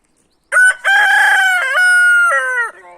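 A rooster crows once, loud and close, a long drawn-out call with a short break partway through and a fading tail, heard alone with no talk.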